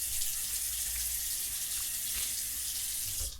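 Cold tap water runs steadily into a sink for rinsing a freshly shaved face, a continuous close splashing hiss with no talking.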